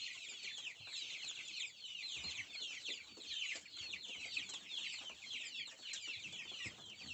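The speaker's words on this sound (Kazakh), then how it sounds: "демалыс орны деуге болады тауықтарға." A flock of young chickens clucks and chirps continuously in their coop, a busy overlapping chatter that stays soft and fairly distant, with no voices.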